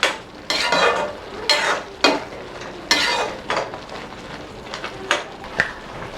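Tomatoes and dates sautéed in ghee for tomato jam, stirred with a utensil in a pan, producing a series of sharp scraping strokes over a soft sizzle, fairly close with no talk.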